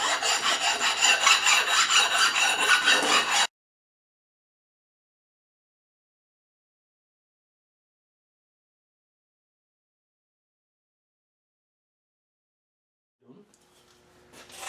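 A metal part from a Rover air locker differential being rubbed back and forth on an oilstone, a steady close-up scraping for about three and a half seconds before falling silent, with a faint stir of noise near the end.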